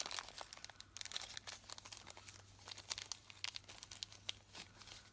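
A small plastic baggie is crinkled and handled close by, giving a steady run of irregular crackles and crisp rustles with no talking.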